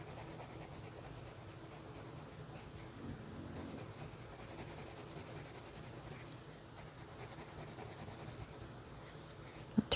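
Short orange coloured pencil shading a cat's tail on paper, a faint, soft continuous scratching under low room noise, ending with a small tap.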